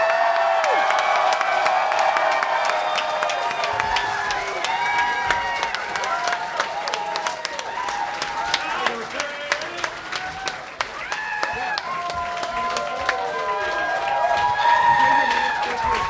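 Large crowd at Dragon Con cheering, whooping and clapping for Turquoise Jeep, a dense sustained roar of shouts and applause that swells near the end, with voices calling out throughout.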